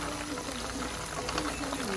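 Chicken frying in a pan at home gives a steady, close, unbroken sizzling hiss with no clear breaks.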